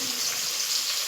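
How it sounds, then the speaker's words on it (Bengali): Potatoes frying in a pan with salt, giving a steady, close hiss of sizzling oil throughout without pause. "এবার ভালো করে নাড়াচাড়া দিয়ে ওকে আলুটা ভাজা ওর মতন ভাজতে দেবো"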